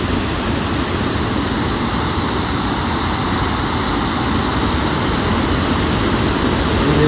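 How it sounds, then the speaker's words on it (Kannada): Godchinmalki waterfall near Gokak roars as a dense, unbroken wash of falling water, loud and steady from start to finish with no other sounds standing out. "ಇದು ಮಲ್ಕಿ ವಾಟರ್ ಫಾಲ್ಸ್"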